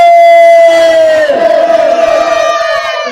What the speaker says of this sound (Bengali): একটু তাকবীর, একটু জোরে করে দেন, নারে তাকবীর